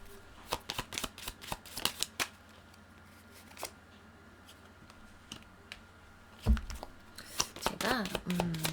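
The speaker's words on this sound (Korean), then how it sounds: "제가 조금 더 카드를 뽑아볼게요." Tarot cards shuffled and drawn: soft, close riffling and sharp card snaps in bursts, louder flurries near the end.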